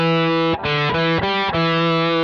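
A heavily distorted electric guitar plays a riff, sustained chords broken by quick rhythmic stops, loud and up close.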